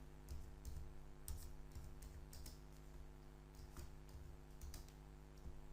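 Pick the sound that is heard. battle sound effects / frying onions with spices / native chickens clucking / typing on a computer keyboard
typing on a computer keyboard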